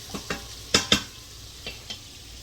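Rice and onions sauté in a hot pan for Spanish rice. A steady low sizzle runs under several quick, scraping stirs and tosses, close and moderately loud, with no talking.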